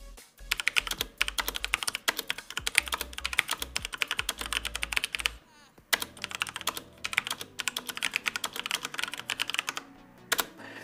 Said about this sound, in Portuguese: O teclado na sua escrita é muito confortável, é um teclado mecânico por si só